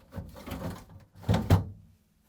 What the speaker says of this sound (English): To install the new vegetable drawer, we need to place it onto the rails and then slide it in.